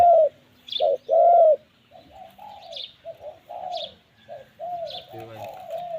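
A dove coos in a series of soft, low hooting calls with short pauses, mixed with a few brief chirps nearby.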